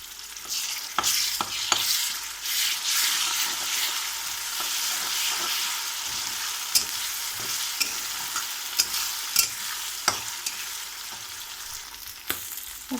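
Chamagadda (taro) fry cooks with ginger-garlic paste in a pan, a steady oily sizzle broken by repeated scraping and stirring strokes of a spatula against the metal, close and continuous with no talk.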